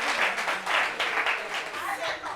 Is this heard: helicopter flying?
no